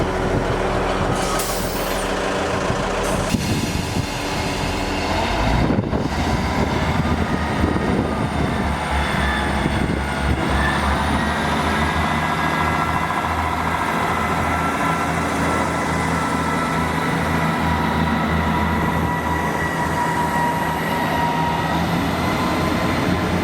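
A Class 158 diesel train roars steadily and loudly through South Gyle station, with a continuous low rumble, rail noise and engine drone, and no voices.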